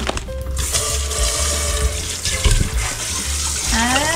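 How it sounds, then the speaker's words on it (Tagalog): Tap water running into a kitchen sink while fish is washed, a steady close splashing flow with small clinks and handling sounds. "Kailangan kong linisin ang isda."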